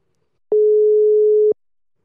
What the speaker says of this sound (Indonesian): Langsung gue telepon aja orangnya.